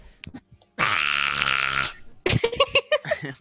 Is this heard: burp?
yes